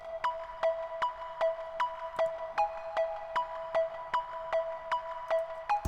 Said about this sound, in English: I like using a simple melodic arp.